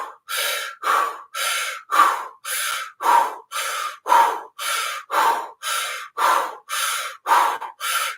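Deep rhythmic breathing in a Kundalini yoga breath exercise, fourteen or so strong, evenly paced breaths close to the ear, each a forceful airy rush separated by short silent gaps.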